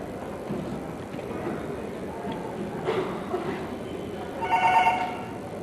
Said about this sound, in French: Tiens, téléphone.